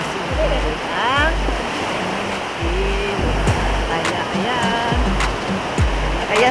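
Surf and washing waves at a beach at night, a steady broadband rush with low thumps, heard under the voices of people talking and calling nearby.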